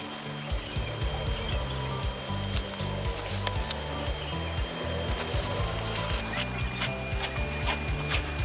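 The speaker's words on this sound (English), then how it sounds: "After drying, the primer was lightly wet-sanded." Wet-sanding fresh primer on the repaired body of a BMW, a steady rhythmic rubbing rasp with repeated back-and-forth strokes, close and continuous throughout.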